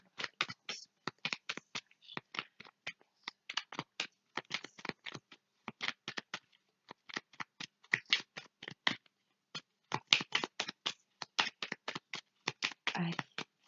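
Cards from a small angel oracle deck are shuffled in a brisk series of crisp, close snaps and flicks with short pauses between bursts, with no voice over them.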